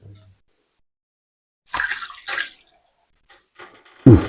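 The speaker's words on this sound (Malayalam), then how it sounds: "അപ്പം നമുക്ക് കുറച്ച് വെള്ളം ഒഴിച്ചു കൊടുക്കാം" Water is poured into a kappa biriyani mixture of tapioca in a quiet kitchen, giving a few short close splashes separated by silence and ending in one louder burst.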